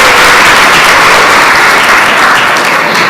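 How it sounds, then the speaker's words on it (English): Loud, dense applause from a large crowd at a speech event in Ghana fills the space, a continuous wash of clapping at steady intensity throughout. "Give him a round of applause"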